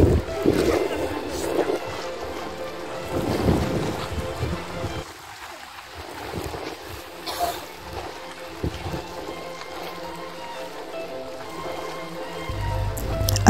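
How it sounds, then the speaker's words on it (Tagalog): Sea waves crash and wash over a rocky shoreline nearby, rolling surges of broadband water noise with intermittent splashes and some wind buffeting the microphone. "Ang sarap pakinggan yung hampas ng alon."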